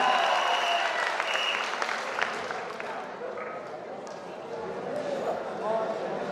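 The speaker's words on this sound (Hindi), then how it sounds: "दुर्गेश दुबे के लिए हाथ उठाकर जोरदार तालियां बजाएं" Audience applause for poet Durgesh Dubey at a Hindi poetry recital during a college festival: dense, sustained clapping from a large crowd that holds steady for the whole stretch, with some voices mixed in underneath.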